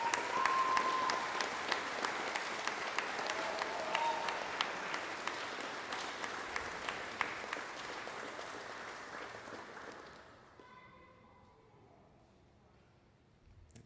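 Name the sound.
audience applause at a school music gala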